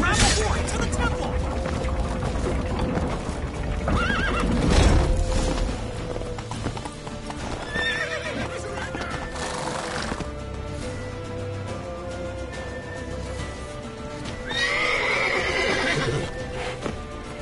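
In The Witcher 3: Wild Hunt, a horse neighs and hooves clatter in a steady galloping rhythm, loud and close, over a dense, continuous bed of game music and effects.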